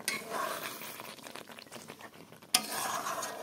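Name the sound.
chicken frying and being stirred in a pan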